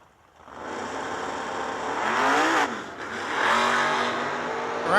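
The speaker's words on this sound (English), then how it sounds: "a double tire spin there" Drag racing cars launch side by side and lose traction in a double tire spin, loud close engines roaring and revving hard for several seconds, dipping briefly before surging again.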